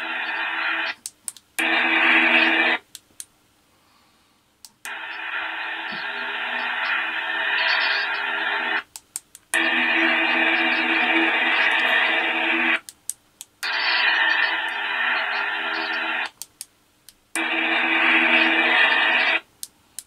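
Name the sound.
sound played through small 28mm and 24mm bass speakers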